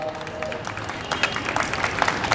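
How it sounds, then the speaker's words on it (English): Audience applause at a Republic Day event, a dense wash of many hands clapping that holds steady for a couple of seconds and swells slightly louder partway through. "Hand of applause."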